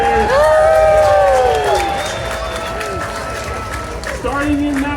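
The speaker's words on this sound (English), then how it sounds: "Put your hands together for Strawberry!" Loud audience applause and cheering at a racing pig show at the Orange County Fair, with an announcer talking over the crowd as the clapping slowly dies down.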